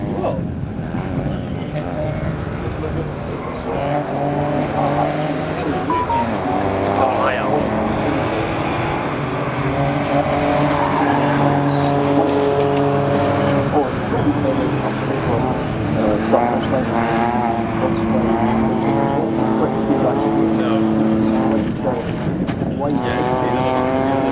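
Front-wheel drive rally cars at the McRae Rally Challenge 2025 roar through chicanes on a special stage, their engines revving hard, rising and falling continuously and loudly under a commentator's voice.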